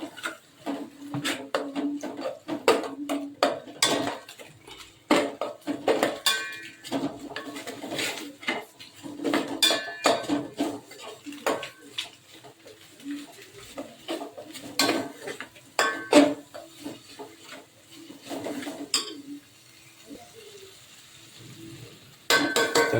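Chicken biryani being mixed in a pot with an onion-coconut paste, a steady run of metal spoon clatter and scraping against the pot sounding close and fairly loud, with no voices.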